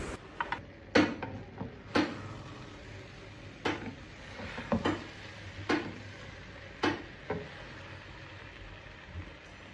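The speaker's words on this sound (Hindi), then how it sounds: "जो मैंने 1 किलो भिंडियाँ फ्राई की थी वो इस मसाले में अब मैं शामिल कर रहा हूँ और मैं इसको अच्छी तरह मिक्स कर लूँगा।" Fried okra, a kilo of it, being stirred into masala in a pan, giving irregular scraping clacks and knocks of a spoon against metal over a quiet background, with no talking.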